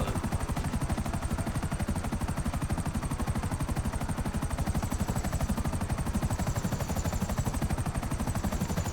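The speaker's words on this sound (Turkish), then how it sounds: "Helikopter geldi" Police helicopter in the video game GTA 5, a steady, fast rotor chop pulsing evenly throughout, loud and close, with dense mechanical noise and no speech.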